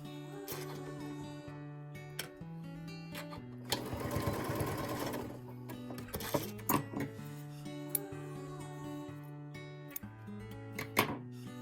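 A sewing machine runs in bursts, stitching down bias-cut binding strips at the top edge of a fabric egg, with one longer steady run of rapid needle chatter midway and short starts and stops around it, close and clear with no talking.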